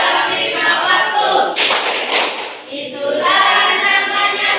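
Children clapping a rhythmic chant together, a burst of sharp claps in the middle with group singing-style voices before and after.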